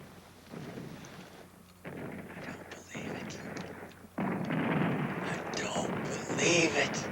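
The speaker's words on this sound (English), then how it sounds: "We're bombing targets around Hanoi." Distant B-52 bombing around Hanoi rumbles as low, heavy booms and a sustained roar, growing louder toward the end, in a radio drama set during the Vietnam War.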